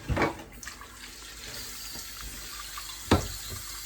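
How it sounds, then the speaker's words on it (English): Water runs from a tap in a steady quiet stream, with a couple of sharp clunks and splashes near the start and just after three seconds. "so I will run my water"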